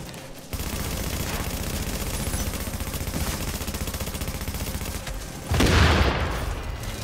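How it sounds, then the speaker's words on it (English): Explosive bullets fired in a video game, a steady dense barrage of gunfire that runs for several seconds and ends in a louder boom-like burst near the end, close and with no talk over it. "And I've got explosive bullets ready."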